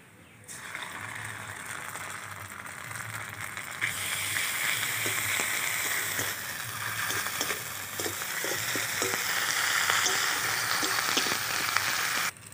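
Ginger-garlic paste frying in a pan with chopped onions and a bay leaf for a fish malai curry gives a steady, loud sizzle that swells slightly over time, with faint stirring clicks and no talking.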